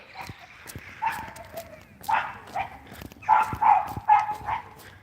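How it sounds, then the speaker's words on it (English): Quarrelsome dogs outdoors in the morning, barking and yipping in a series of sharp, fairly close bursts mixed with whines, several overlapping calls rising in intensity toward the end. "Quarrelsome dogs."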